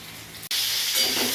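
Eggplant (brinjal) pieces frying in a hot pan give a close, steady sizzle with crackling hiss, briefly broken by a sharp cut before the frying noise resumes, louder and fuller.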